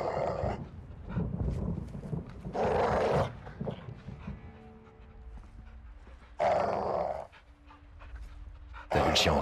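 A caged mastiff in the Modern Warfare II video game pants heavily and growls in loud bursts, separated by quieter stretches of low rumbling and breathing.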